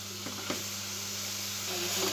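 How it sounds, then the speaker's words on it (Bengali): Steamed water lily stems sizzle and hiss steadily in a hot pan while they are stirred, with a couple of soft scrape clicks near the start. "শাপলাগুলো দিয়ে দেব এবার আমি নাড়াচাড়া করে সুন্দরভাবে একটু মিশিয়ে নেব আস্তে আস্তে ভাজা ভাজা করে নেব"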